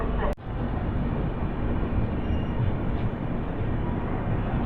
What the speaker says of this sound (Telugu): ట్రైన్ కూడా ఆన్ టైంకి స్టార్ట్ అయిపోయింది.